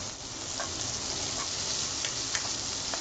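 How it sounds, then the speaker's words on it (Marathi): Chopped tomato hits onion frying in a pan, and a steady broad sizzle follows. It is close and unbroken, with a few faint clicks over the hiss and no talking. "कांदा चांगला भाजून झाला की आपण ह्यामध्ये टोमॅटो चिरलेला टाकूया"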